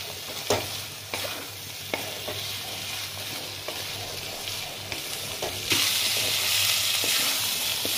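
Spices and pointed gourd fry in a pan, a close, steady sizzle with repeated scraping stirs and occasional spatula knocks, swelling louder near the end, no voices.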